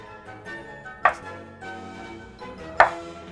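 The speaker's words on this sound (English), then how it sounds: "Here's my block of tofu, and we're going to make these into little cubes." A knife cuts a block of tofu into cubes on a cutting board, giving two sharp, close chops about two seconds apart with soft handling noise between them.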